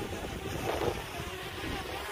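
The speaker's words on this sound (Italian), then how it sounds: "tornate le raffiche." Wind buffets the microphone steadily aboard a boat on open water, a continuous broadband rush with a slightly stronger gust near the start and no voices.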